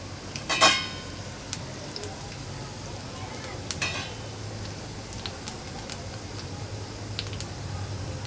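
Cumin seeds fry in hot oil for a Marathi bitter gourd dish, giving a soft, steady sizzle throughout, with a few light clinks of a utensil against the pan.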